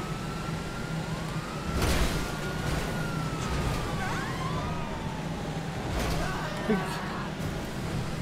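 A police car siren wails in GTA 5 Online, its rising and falling tone gliding steadily at mid-distance over constant engine and city rumble, with heavier crashes around two and six seconds.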